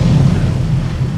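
Deep, rumbling torpedo explosion in the naval warfare game War on the Sea, a dense low boom that rolls on for over a second at steady loudness, heavy and close with no clear separate hits.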